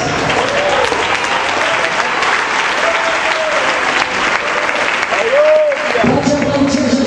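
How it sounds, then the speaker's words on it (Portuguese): A church congregation clapping during an evangelical service, loud sustained applause from the whole room, with a voice calling out over it at moments. "ocupe as mãos e capricha nas palmas."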